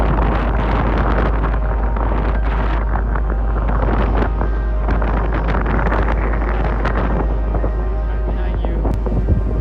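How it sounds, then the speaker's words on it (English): Fierce, relentless wind pounds the microphone high on Rainbow Mountain near Cusco, Peru, a constant loud roar with heavy low rumble and gusty flutter throughout. "The wind speed is going up, and this is what we have to deal"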